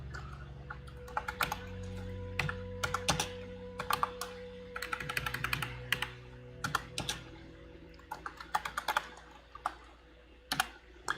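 Keys clatter on a quieter non-mechanical computer keyboard in irregular bursts, close and crisp, with pauses between runs of fast tapping over a faint background hum.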